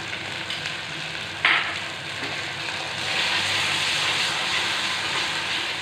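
Mustard paste and ginger paste fry in hot oil for a mustard fish curry, a continuous moderate sizzle that grows slightly louder midway, with a brief stirring scrape early on and no voices.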